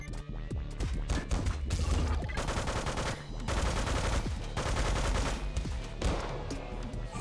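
Rapid bursts of gunfire from the fighting video game Megabyte Punch rattle loudly in quick repeated volleys, broken by brief gaps, with no voices over them.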